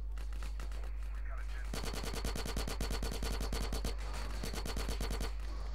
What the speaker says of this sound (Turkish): Hangi gerizekalı bize sıkıyor lan?